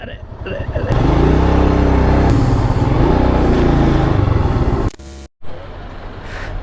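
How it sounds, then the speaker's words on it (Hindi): Busy road traffic during a Diwali-time motorcycle ride, with car and motorbike engines droning loudly and steadily close by, briefly cutting out near the end, while voices talk over it. "ये ट्रैफिक तो समझ में नहीं आ रहा"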